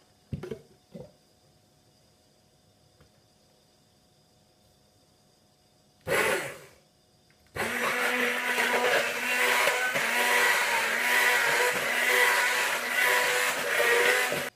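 Blender blending a thick oats mixture, a few short bumps and a brief burst before the motor kicks in and roars loudly and steadily until the end.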